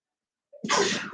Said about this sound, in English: this black pepper really makes me sneeze, so if I sneeze, please forgive me